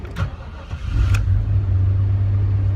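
A G20 van engine on a weak battery cranks briefly and sluggishly, then catches and settles into a steady, low idle hum, close and moderately loud.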